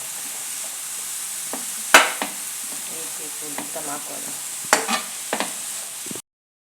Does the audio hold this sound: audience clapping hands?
no